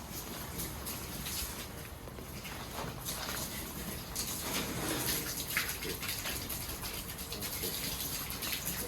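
Water pours steadily into a tub at an outdoor wolf park, a broad continuous splashing rush that stays even and moderately close throughout.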